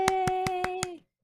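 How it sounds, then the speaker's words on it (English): Five quick, evenly spaced claps, loud and close, ringing over a steady sustained tone that cuts off after about a second; no talking. "Everybody clap for Oka."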